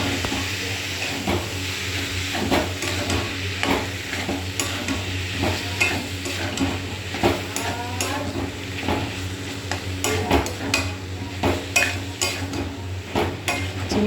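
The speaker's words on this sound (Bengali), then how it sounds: "তারপরে এই যে সেদ্ধ করে রাখা মোচাটাকে দিয়ে দেবো। ভেজে দিয়ে দিয়েছি, এবার মশলাটার সঙ্গে মিশিয়ে নেব।" Boiled banana flower gets stirred into a fried spice mix in a pan, the spatula scraping in a busy, uneven rhythm over a continuous loud sizzle and hiss.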